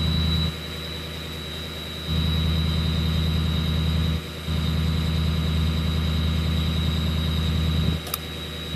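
A Ford Excursion with a 6.0 diesel engine runs at a raised high idle, a loud, steady low rumble throughout, dipping briefly twice before resuming its constant drone.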